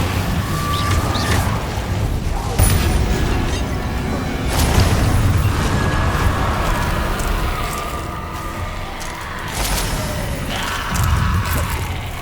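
Incendio fire spells blasting in Hogwarts Legacy, a dense run of loud booming bursts and roaring crackle, with repeated heavy impacts a few seconds apart under a continuous rumbling combat din.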